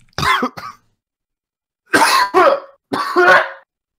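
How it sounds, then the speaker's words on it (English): Three bursts of harsh coughing, close and loud, with throat clearing, separated by silent pauses. "It's really fucking annoying when you cough like that"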